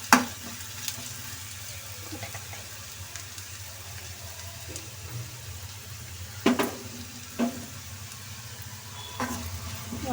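Egg bhurji frying in a pan on a stove turned down low, with chili powder and salt added, gives a steady soft sizzle throughout, broken by a few sharp clatters of a spoon against the pan.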